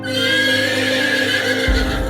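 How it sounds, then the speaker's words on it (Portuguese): A white horse whinnies at night, one long loud neigh that quavers as it goes, close by and heard alone. "de repente o barulho de um cavalo relinchando"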